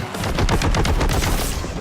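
Rapid bolter fire in the shooter Warhammer 40,000: Boltgun, a dense burst of loud, closely spaced gunshots filling the whole moment with no pause.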